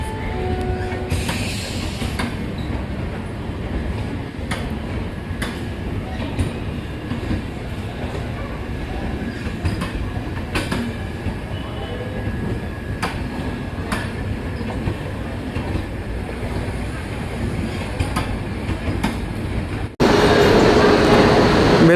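The Durg–Udhampur Superfast passes close by with a long, steady roar and clatter of wheels over rails, and occasional sharp clicks. A louder burst of noise cuts in at the very end.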